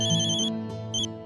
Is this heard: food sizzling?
no